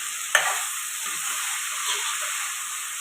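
A drumstick and cauliflower curry fries in an uncovered pan, a steady soft hiss of sizzling with one sharp clank near the start and faint scraping afterward, close and even.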